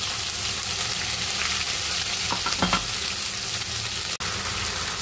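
Peanuts, green chillies and garlic fry in a pan with a steady, dense sizzle, loud and close, broken by a few stirring scrapes and one sharp knock near the end.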